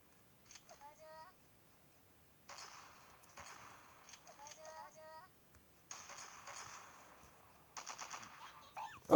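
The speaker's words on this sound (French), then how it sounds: "je me suis fait tirer dessus." Faint bursts of gunfire from a shooter video game come in several short rapid volleys spread across the stretch, quiet and distant-sounding with brief electronic tones between them.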